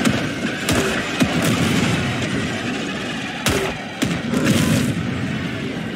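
Orbital barrage explosions in a video game, with a string of loud, heavy booms and sharp blasts landing at irregular intervals over a constant rumbling battle din.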